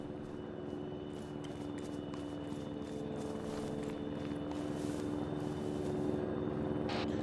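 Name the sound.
helicopter approaching in video game Arma 3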